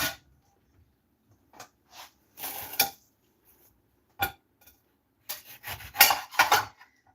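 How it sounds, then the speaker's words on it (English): A knife cutting a grapefruit on a plate, with sparse clinks and scrapes of cutlery and dishes in short bursts separated by quiet gaps, close up and without speech. "Oh, I gotta cut my grapefruit before I have that butter."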